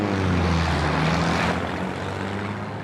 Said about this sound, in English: Where is that plane going?